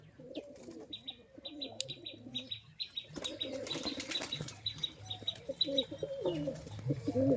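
Andhra high-flyer pigeons flap their wings in several sharp bursts while soft, low cooing rolls on beneath, fairly close and moderately quiet.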